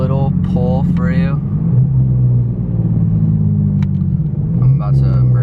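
A Lexus IS300 pulls hard while merging onto a road, its engine and road noise a steady loud rumble throughout, with people talking over the start and end.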